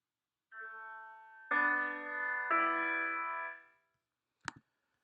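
A few sustained keyboard chords forming a 2-3 suspension, each held and shifting to a new harmony, followed by silence and a single sharp click.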